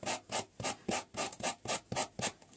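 Rice paper decoupage on a vintage basket sanded by hand, a quiet, regular back-and-forth rasping of about ten strokes in quick even rhythm, close up with no talk.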